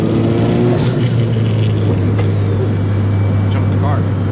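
A car engine heard from a GoPro mounted in the engine bay drones loudly with a steady low hum and rising revs, the close mechanical roar filling the whole stretch.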